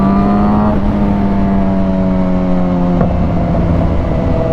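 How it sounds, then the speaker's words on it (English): A 2011 Suzuki GSX-R 750 fitted with a Two Brothers Black Series exhaust runs loud and close, its steady engine tone sliding gradually lower. A single sharp backfire pop cracks out near the end. "you can hear the backfires from that Two Brothers Black Series exhaust, which sounds really, really, really good"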